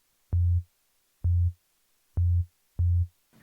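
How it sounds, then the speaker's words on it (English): Four short, identical low test-tone bursts from a frequency generator repeat at an even pace, each a clean steady pitch with a sharp click at onset, separated by silence. "So we're just listening to our frequency generator."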